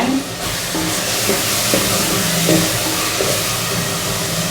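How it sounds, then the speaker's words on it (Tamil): Tomatoes with salt and green chillies sautéing in a pan give a loud, steady, close sizzle that continues without a break, with faint scraping stirs underneath. "அதில் வந்து கொஞ்சமாக உப்பு சேர்த்து அப்படியே கொஞ்ச நேரம் வதங்கட்டும்"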